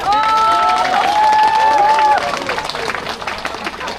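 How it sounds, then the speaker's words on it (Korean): An audience at an elementary school alumni festival claps and cheers in a busy, crowded burst. An amplified voice speaks over the applause at first, and the clapping carries on as the speaking fades. "박수 한번 주세요"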